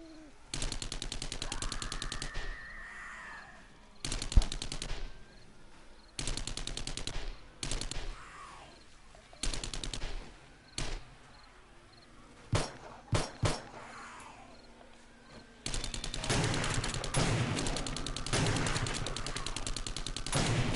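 Gunfire in the zombie survival video game 7 Days to Die, bursts of rapid shots alternating with short gaps, loud and close, ending in a sustained stretch of dense firing.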